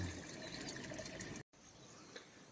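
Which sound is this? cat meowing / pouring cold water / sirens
pouring cold water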